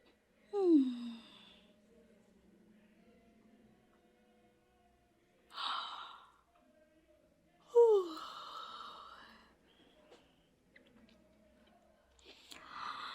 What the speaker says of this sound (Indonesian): aku gak bisa berhenti nguap